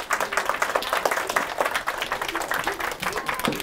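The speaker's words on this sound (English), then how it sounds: "Give her a round of applause." Audience applause at a magic workshop held in a public library, a dense, steady patter of many hands clapping throughout at moderate loudness.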